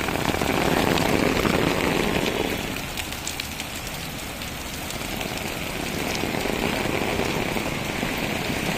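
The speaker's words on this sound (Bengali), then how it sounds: "সকাল থেকে এ পর্যন্ত বৃষ্টি ধারাবাহিকভাবে নেমে যাচ্ছে।" Steady rain pours in Dhaka during a gusty storm, a dense continuous hiss that is heavier at first and then settles into an even patter.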